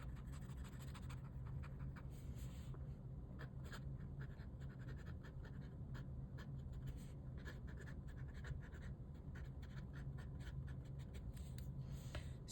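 A fountain pen drags across paper while laying down a swatch of Diamine Canalside ink: faint, close, dry scratching strokes in an uneven rhythm, very quiet over a low room hum, with no speech.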